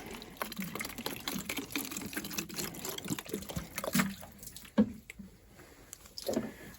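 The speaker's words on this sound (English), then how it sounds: "We fill up the water bottle." Water trickling and splashing as a plastic water bottle is filled for a 3D printed flat lap's water attachment, a steady close gurgle with a few louder splashes near the end.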